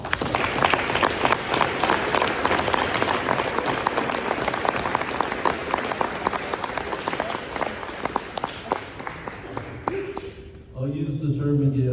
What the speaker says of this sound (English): join me in giving you applause